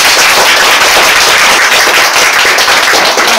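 Loud, dense applause from a lecture audience, a continuous wash of many hands clapping at once with no gaps, filling the whole stretch without speech.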